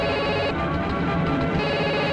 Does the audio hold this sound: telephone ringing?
yes